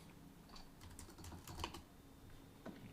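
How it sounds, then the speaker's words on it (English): Fast, uneven clicking of keys on a computer keyboard, quiet and close, in short bursts with small pauses during live programming work; no talking. "I have to keep typing"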